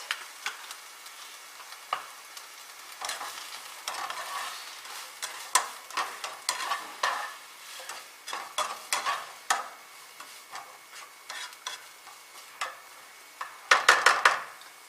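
Vegetables fry in a pan with oregano while a utensil stirs them, producing irregular scraping and clinking strokes over a light sizzle, close up, with a burst of sharper clatter near the end and no voices.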